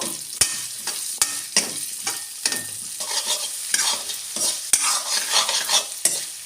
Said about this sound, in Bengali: আদা রসুন কাঁচা লঙ্কার যে পেস্টটা করে রেখেছিলাম ওটা দিয়ে দেবো মশলাটা একটু কষে নিয়ে এর মধ্যে গাজরটা একটু মেরে নেব